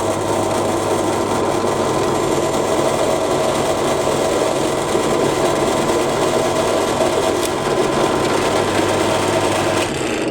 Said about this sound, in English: I can probably do that on the bench drill